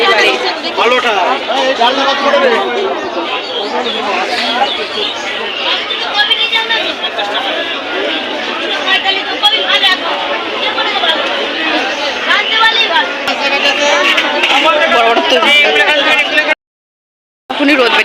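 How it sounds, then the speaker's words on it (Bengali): Loud, dense crowd chatter fills a busy cattle market, many voices overlapping in a constant close babble with occasional shouts, cutting out briefly near the end. "এত ভিড়"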